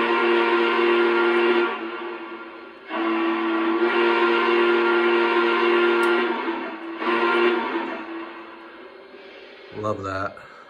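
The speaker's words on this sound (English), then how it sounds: "Alrighty, let's hear the whistle." A Lionel Legacy Union Pacific FEF-3 Northern #844 model locomotive sounds its steam whistle effect in three long chime blasts, clear and resonant with echo, followed by a short burst of other sound at the end.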